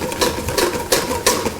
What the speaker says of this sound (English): When I put my bowl on top and I start to whisk